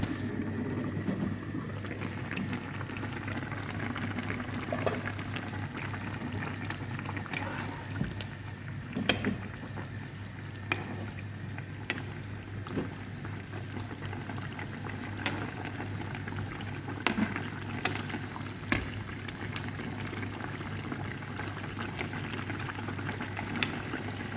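A rohu fish curry with green chili and tomato simmers in a pot, giving a soft, steady bubbling with occasional small pops and clicks, faint and continuous.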